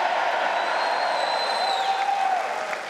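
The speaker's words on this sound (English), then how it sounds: "Cheer." Crowd at the 2018 NRA-ILA Leadership Forum cheering and applauding steadily, a dense wash of clapping and shouts with a few whistles, loud and continuous throughout.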